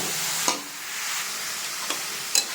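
Cabbage being stirred into spices frying in oil gives a soft, steady sizzle, punctuated by three quick scraping clicks of a utensil against the pan, with no voices.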